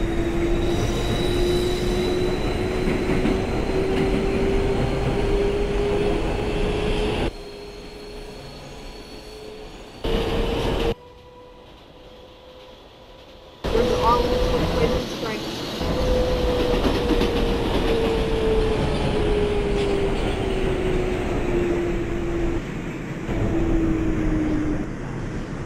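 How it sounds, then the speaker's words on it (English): R142A 6 subway train running on the New York IRT line in the OpenBVE simulator game: steady loud rolling rumble with a gliding motor whine, brief drops in level, and wheel squeal. "Jack, I'm doing a 6 train from Pelham Bay Park to Brooklyn Bridge City Hall."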